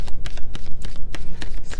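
Tarot cards are shuffled in a close, crisp riffle, a quick run of papery flicks and slaps lasting under two seconds.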